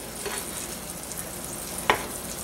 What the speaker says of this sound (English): you're going to put it in your oil and you're going to turn it on a medium heat, and you're just browning each side